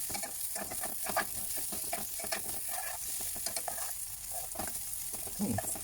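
Garlic and onion frying in olive oil in a pan for chicken pansit guisado, a steady close sizzle broken by repeated scraping stir strokes, with no talking.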